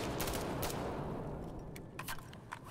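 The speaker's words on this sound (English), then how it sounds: "It's burst fire." Rapid gunshots from a burst-fire weapon in Insurgency Sandstorm ring out close at first and then thin into scattered sharper cracks, with no talking over them.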